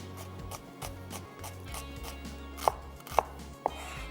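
A knife slices onion on a cutting board in a home kitchen, with soft rhythmic cuts followed by three sharper, louder knocks of the blade against the board, close and without speech.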